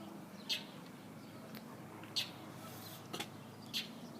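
A bird squawks at a cat outdoors, giving sharp, brief calls at roughly 1.5-second intervals, faint against a quiet background hiss.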